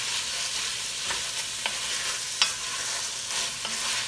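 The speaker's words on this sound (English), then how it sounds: "I'm gonna move this around here with my spoon." Garlic and vegetables are stirred with a spoon in a hot pan for an old-school beef stew, with a steady sizzle and a few scraping spoon strokes close up, no talking.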